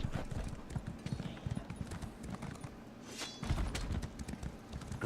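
Horse hooves clip-clop in a steady walking rhythm in the video game Elder Scrolls Online, close and continuous, with a brief pause midway before the footfalls resume.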